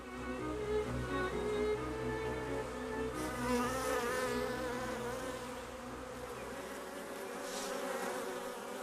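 Honeybee foragers flying near a communal hive give a steady, close insect buzz that wavers in pitch and loudness as they pass, heard alone without voices.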